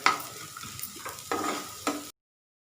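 Spring onions stir-fry in a hot pan for spring rolls, a sizzling hiss with several scraping stirs, a loud burst at the start and two more near the end before an abrupt stop.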